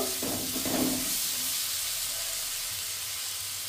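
Turmeric, salt and spices stirred in a hot pan for a sprouted chickpea curry, a continuous soft sizzling hiss near the pan with a brief scrape of stirring at the start.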